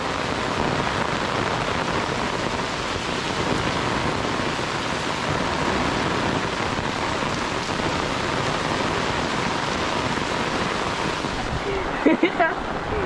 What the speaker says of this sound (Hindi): से जोरों की बारिश स्टार्ट हो गई है, अभी अभी ही हुई है